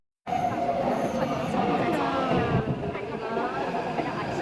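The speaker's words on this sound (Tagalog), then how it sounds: "Wait natin yung train." A metro train pulls into a station platform with a loud steady rumble and a rising whine, some squeal near the end and a crowd murmuring underneath.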